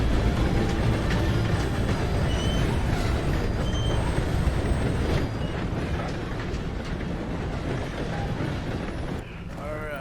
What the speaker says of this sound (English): Guess we need to beat that train.